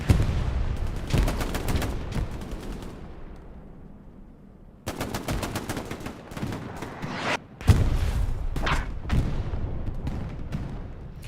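Sustained automatic fire from an MG42 machine gun in the video game Hell Let Loose, with long rapid bursts, a brief lull, then more dense bursts and distant gunfire layered in a loud battlefield mix.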